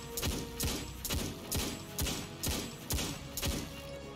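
Six-shooter hand cannon fire in Destiny 2 during strikes and Crucible play: eight evenly spaced sharp shots, roughly one every half second, fairly quiet and steady with no talking.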